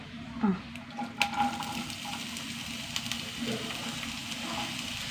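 Sliced onion sizzles in hot oil in a pan, a steady soft frying hiss heard up close, with a few clinks and stirring sounds over it at the start.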